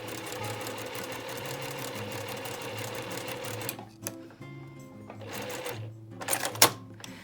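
A sewing machine runs steadily while stitching patchwork half-square triangles, its loud continuous whirr breaking off into short pauses and brief bursts of stitching toward the end.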